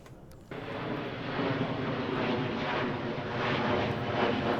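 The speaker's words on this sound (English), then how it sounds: "patience on the airplane noise" A jet airliner passing overhead near SeaTac during a disc golf tournament round, a loud broadband roar that swells in and then holds steady.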